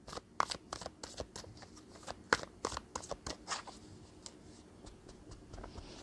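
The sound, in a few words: shuffling tarot cards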